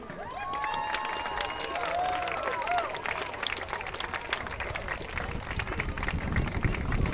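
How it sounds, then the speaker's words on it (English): A crowd applauds and cheers at a men's lacrosse final between Poynton Lacrosse and HLC Rot-Weiss München, a sustained wash of clapping and crowd noise that holds steady for several seconds. "And a big round of applause."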